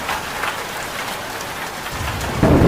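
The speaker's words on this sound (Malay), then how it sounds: "Hujan." Steady rain pours on a camping scene, a dense even hiss throughout, with a heavier rumbling burst like thunder or a downpour swelling near the end.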